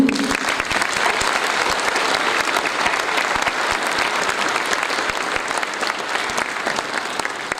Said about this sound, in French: je voudrais que nous l'applaudissions tous